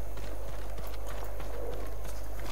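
Samurai horses in the video game Ghost of Tsushima, with steady clip-clopping hooves over a constant low rumble and some faint background voices.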